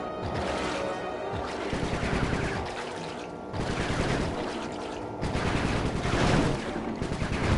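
Gunfire in Sly 3: Honor Among Thieves, repeated rapid bursts of shots that swell and fade in waves over game music, close and moderately loud.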